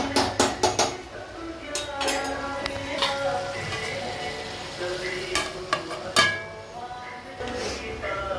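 Pumpkin curry cooking in a wok at home, with clinks and scrapes of a utensil stirring against the pan and a soft sizzle underneath, busier at the start and again near the end.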